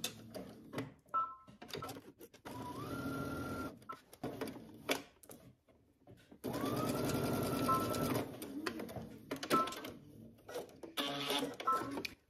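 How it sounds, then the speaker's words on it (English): A home sewing machine stitches a skirt side seam from hem upward at a 5/8-inch allowance, running in two longer steady bursts with a whirring tone, separated by short stops, close and clear without talk. "first go to your sewing machine and starting at the hem, work your way up, stitching using 5/8 of an inch seam allowance"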